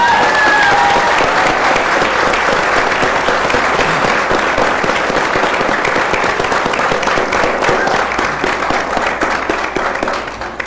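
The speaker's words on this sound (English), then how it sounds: "I hope you'll give her a round of applause." A full, loud round of applause from an audience at a conversation with legislative leaders, dense steady clapping that holds for about ten seconds before starting to thin out at the end.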